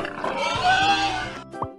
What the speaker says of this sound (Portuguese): Esse é o porco.